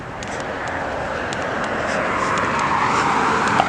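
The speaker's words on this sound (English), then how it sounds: "A lot of cars coming." Cars drive past on a city street, a broad steady roar of traffic that swells gradually louder over a few seconds, with no voices.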